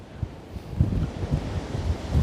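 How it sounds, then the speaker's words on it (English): Strong wind buffeting the microphone in low, rumbling gusts on the coast at Durness, Scotland, loud and close, with no voices. "it's just so windy"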